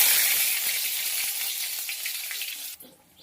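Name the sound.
nigella seeds and garlic sizzling in hot oil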